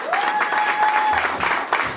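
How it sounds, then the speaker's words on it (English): A crowd at a Black LGBTQ marriage victory celebration in Chicago claps steadily, loud overlapping applause with a faint ringing tone and a brief low rumble partway through. "everybody need to be clapping"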